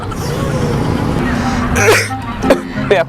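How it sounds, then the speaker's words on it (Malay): A person gives a short harsh cough and then smaller coughing bursts over steady background noise with a low hum. The coughs are loud and close. "Aku batuk."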